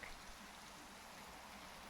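Steady rain falling in the Minecraft video game, a soft, even hiss of drops playing faintly and alone without any speech.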